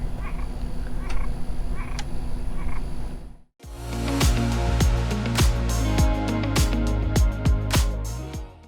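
A frog hidden inside an RV croaks in a fast run of loud, close pulses after a short quieter stretch of background noise.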